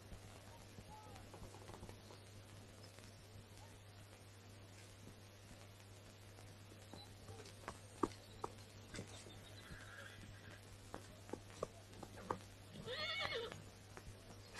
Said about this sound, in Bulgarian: Понрави ми се коня ти, белия.